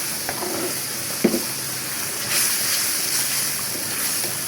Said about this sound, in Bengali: মশলা কষাই নিলাম, রসুন বাটার পরিবর্তে রসুন কুচা দিয়েছি।